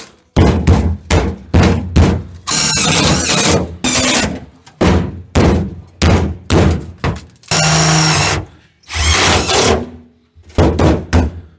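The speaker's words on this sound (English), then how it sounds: "Let me put a screw or two right here." Short bursts of a power drill whirring as it drives screws, alternating with sharp knocks and thuds, loud and close, in an irregular working rhythm.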